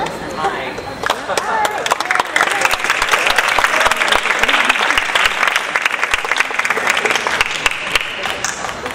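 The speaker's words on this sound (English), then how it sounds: "let's give them all a round of applause" A crowd applauds writing award winners at a college awards event, a dense, sustained burst of clapping at close range with chatter and voices mixed in throughout.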